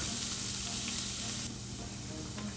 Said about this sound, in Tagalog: Heat some olive oil, then saute your garlic and onion until soft and fragrant.